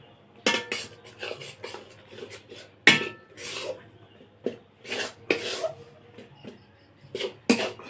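Flour is stirred into melted ghee in a pan for a syrup-soaked flour sweet, giving irregular bursts of metallic scraping and clinking from a utensil against the pan, close and fairly loud, with quiet gaps between them.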